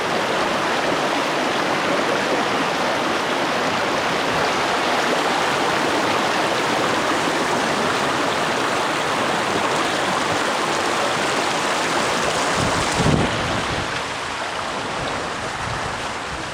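Stream water rushes steadily beside a campsite in heavy rain, a dense, loud and unbroken wash of flowing water that stays even throughout with no voices.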